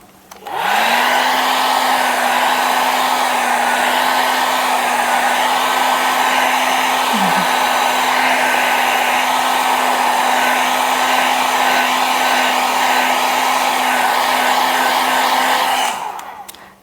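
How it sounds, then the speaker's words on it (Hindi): A hair dryer blows steadily for about sixteen seconds to dry an alcohol ink flower painting, a loud continuous whoosh with a constant motor hum that starts and stops cleanly, alone with no talk. "आपने बस मेरा जो ड्रायर का फ्लो है, कैसे मूव कर रही हूँ, वो ध्यान रखना है।"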